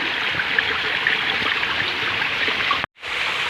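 A jungle stream running with little water, a steady close rushing trickle that continues without pause until a sudden brief cut near the end.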